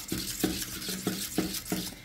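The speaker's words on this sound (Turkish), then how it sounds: "İyicene çırpacağım." Egg-lemon thickening sauce for tripe soup is whisked briskly in a bowl, with rhythmic scraping strokes repeating about every third of a second, close and steady with no talking.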